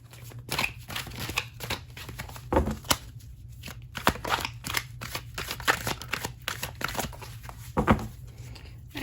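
A tarot card deck is shuffled close up, with steady riffling and repeated soft card slaps continuing throughout, without talking.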